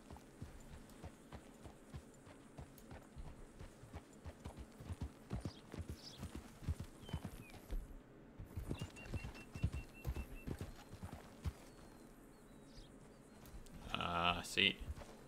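Horse hooves clip-clop steadily at a trot in Red Dead Redemption 2, a continuous rhythmic patter of close hoofbeats with game ambience and occasional speech over it.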